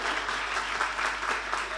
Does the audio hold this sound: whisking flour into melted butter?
no